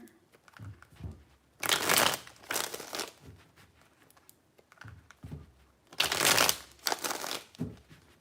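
Tarot cards shuffled in three bursts of crisp riffling and flapping, close and fairly loud, separated by quieter handling rustles.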